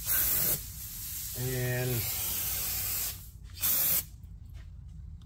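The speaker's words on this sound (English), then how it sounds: "you can actually use a little bit of a brake cleaner to kind of just clean a little bit the corners" Brake cleaner sprayed from an aerosol can onto the corners of a new transmission pan for a 2020 Mercedes GLE 350 4MATIC 9G-Tronic, loud hissing bursts with a pause between, and a voice speaks briefly.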